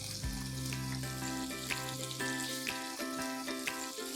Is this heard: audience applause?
no